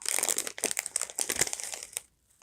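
Plastic packaging around preserved hydrangea crinkles and rustles up close in quick, busy bursts while being opened for a herbarium lamp craft, then stops abruptly into near silence.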